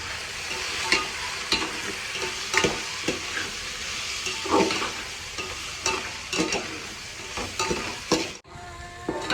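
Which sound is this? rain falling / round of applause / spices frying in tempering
spices frying in tempering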